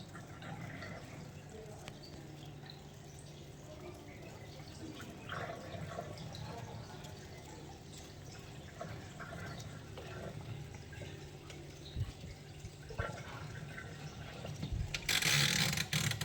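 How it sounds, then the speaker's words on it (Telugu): Water drains out of a MarQ washing machine through the outlet pipe, a steady close wash of running, dripping liquid with faint mechanical rumble and a louder splash near the end. "పెద్ద పైప్ ద్వారా వాటర్ అయితే బయటికి వెళ్ళిపోతుంది"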